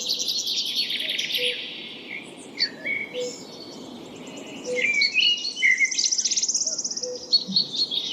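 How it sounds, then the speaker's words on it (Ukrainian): Birds chirping and trilling in bright, repeated phrases over a soft background hum of insects, several calls overlapping at moderate distance. "Вірно, це спів птахів."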